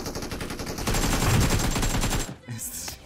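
Rapid automatic gunfire in PUBG, a dense run of sharp bursts that cuts out abruptly, then a few more shots, with a voice briefly under it.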